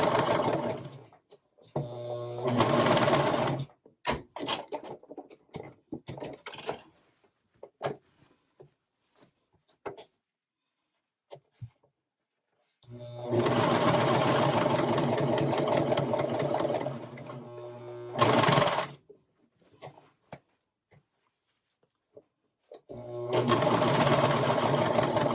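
A sewing machine stitching through a folded sweatshirt neckband runs in several bursts, a fast close mechanical whir lasting a few seconds each, separated by quiet pauses with soft handling clicks.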